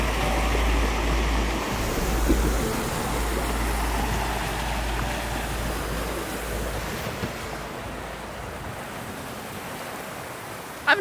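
River water at a river crossing rushes in a continuous broad wash, mixed with strong wind buffeting and low rumble, fading slightly toward the end.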